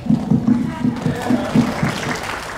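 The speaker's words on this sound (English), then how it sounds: "And all of you, a round of applause." A workshop audience at an anime convention gives a round of applause, bursts of hand claps rising quickly into a fuller, mixed clatter that holds steady, near and fairly loud.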